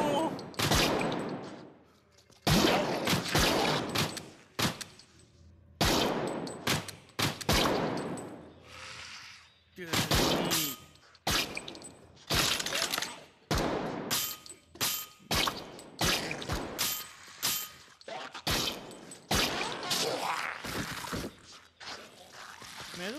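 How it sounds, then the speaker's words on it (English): Assault rifle fire in the video game Death Horizon Reloaded, coming in repeated loud bursts of rapid shots separated by short pauses, close and dominant, along with some shattering impacts. "Use your assault rifle!"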